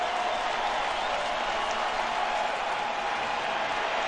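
Steady, dense roar of a large crowd at a college football game between Southern and Memphis, a constant wash of noise without breaks, with faint talk over it.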